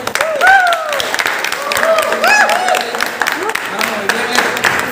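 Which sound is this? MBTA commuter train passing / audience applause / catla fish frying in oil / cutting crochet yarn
audience applause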